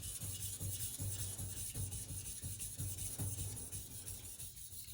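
A compound beveled knife sharpened on a 3000 grit diamond stone, with close, steady back-and-forth rasping strokes repeating in an even rhythm throughout and no talking.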